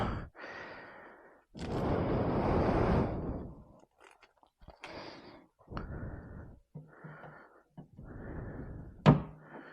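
A plastic trim removal tool pries at a Mazda Miata door panel, making scattered scraping pushes, soft thunks and a sharp pop near the end, close up, with quiet gaps between them.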